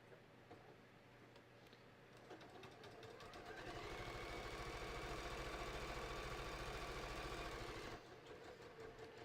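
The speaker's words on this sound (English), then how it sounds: "I'm just going to stitch up to the top of the pocket bag" Sewing machine stitching up a hiking belt's pocket bag, a rapid mechanical whirr that builds in the middle for several seconds and then stops abruptly, fairly quiet overall.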